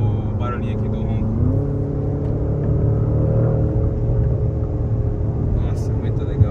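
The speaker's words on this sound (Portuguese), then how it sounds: "Tô escutando o barulhinho aqui do ronco." A Porsche 911 Carrera (992) engine rumbles steadily and close, its pitch rising once as it revs, with faint voices talking underneath.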